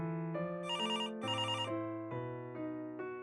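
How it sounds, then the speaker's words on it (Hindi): A landline telephone rings with loud electronic bursts of warbling, layered tones, repeating in quick succession with short gaps between them. Nobody speaks. "ये मोबाइल की जगह लैंडलाइन खनखना रहा है।"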